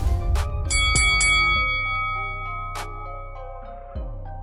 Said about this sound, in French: On souffle un bon coup avant que la cloche ne retentisse